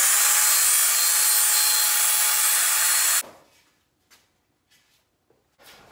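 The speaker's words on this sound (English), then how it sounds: "I've set my miter saw at 45 degrees" A miter saw set at 45 degrees cuts a miter joint in wood for a floating picture frame, giving a loud, steady whine for about three seconds before stopping abruptly, followed by a few faint knocks and handling sounds.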